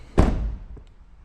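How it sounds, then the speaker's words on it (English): A Jaguar XF car door shuts with a single dull thunk, close and fairly loud, followed by a brief faint rattle as it settles. "So when the door shuts, not only does it make that noise"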